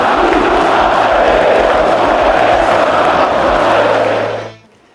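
Football supporters chant against each other in a packed stadium, a loud, dense, continuous crowd roar that holds steady and then cuts off abruptly near the end.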